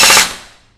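A gel blaster toy rifle fires a short, rapid full-auto burst with a sharp, high-pitched rattle that fades out within a second.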